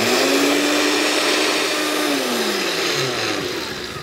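A countertop blender purees acorn squash and apple soup, a loud steady whir that climbs in pitch as the speed rises, then winds down near the end with no talking.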